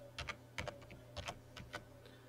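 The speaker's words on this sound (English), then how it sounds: "So in B9, we're going to type equals month of B4." Keys tapped on a computer keyboard while an Excel date formula is entered, a quiet, close run of irregular clicks in small clusters, with no talking.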